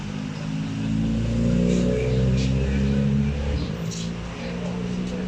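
Kubota ZT110 DI Plus diesel engine running on a semi-riding walk-behind tractor with rubber wheels, a steady low idle-like drone held close and fairly loud throughout, with someone talking over it.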